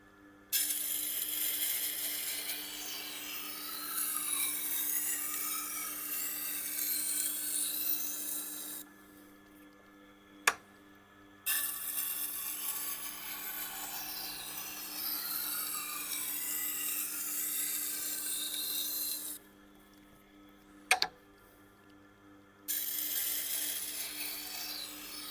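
Knife blade drawn repeatedly across a sharpening stone, a couple of passes per side, in two rasping bursts of scraping strokes separated by pauses, each pause broken by a sharp click.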